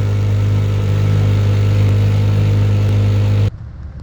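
A fishing boat outboard motor sputtering along on only one cylinder on the Mississippi River, a loud, steady low drone that runs continuously and then cuts off abruptly near the end.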